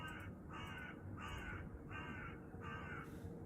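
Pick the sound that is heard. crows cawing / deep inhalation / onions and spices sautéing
crows cawing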